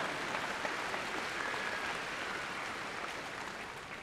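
Graduation audience at a summer commencement ceremony clapping steadily, a dense, even wash of applause that holds without pause and stays fairly faint and distant.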